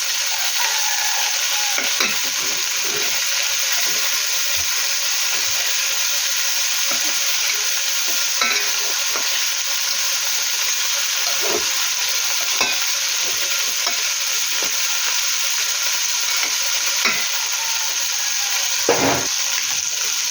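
Food fries in a pan while cooking biryani and is turned over to brown the other side. A continuous loud sizzle runs throughout, broken by occasional scraping and stirring knocks, with no voices.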